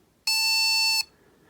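A single electronic beep from the beeper in a vintage Sesame Street Big Bird children's book, a steady high-pitched tone lasting under a second, starts and stops abruptly against near silence.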